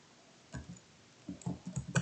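Computer mouse clicks come faint and close: one soft click, a pause, then a quick run of several light clicks in a loose rhythm against quiet room tone.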